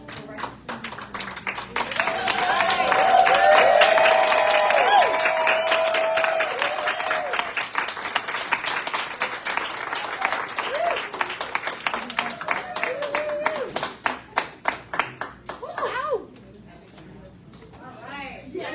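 An audience claps at an evening climate justice event, dense applause swelling early then thinning into scattered individual claps before stopping, with voices and cheering mixed in.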